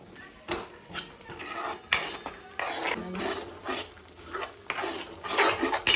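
Ground masala paste is stirred and scraped in a pan for prawn masala, fried until the oil separates, with a steady rasping scrape of the spoon and a soft sizzle underneath.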